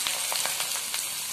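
Soybean manchurian sauce frying lightly in a pan gives a continuous hissing sizzle with a few soft bursts as it is stirred, close and even, with no voices.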